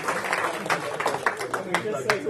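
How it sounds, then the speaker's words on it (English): At an aquarium society meeting, a small audience claps for a guest in a sparse, uneven patter of hands close by, with some talk mixed in. "Everybody, let's give Zeb a round of applause."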